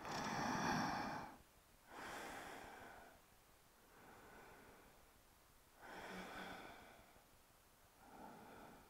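Slow, deep breaths during a heart-opening yoga pose, several long airy inhales and exhales in a steady rhythm, close and fairly quiet with no talking.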